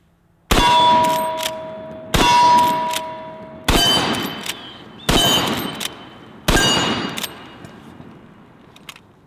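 Five booming shots from a 45-70 lever-action rifle, each followed by a ringing metallic clang from steel targets, spaced about one and a half seconds apart, loud and close, with echoes trailing off after the last shot.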